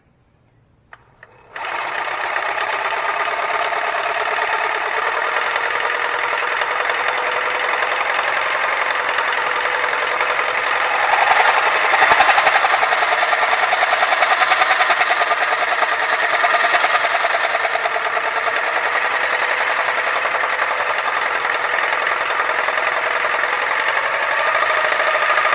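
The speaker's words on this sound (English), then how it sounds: "And you want to be super careful with the Sawzall." A Sawzall reciprocating saw cuts through the oil feed pipe on a Honda V4 engine. The loud, buzzing saw starts abruptly after a brief quiet moment and then runs in a steady, continuous stroke rhythm to the end.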